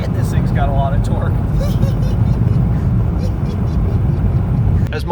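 2013 VW Golf TDI with a Kerma TDI tune pulling through the gears, its low diesel drone and road rumble steady throughout, with someone talking over the engine.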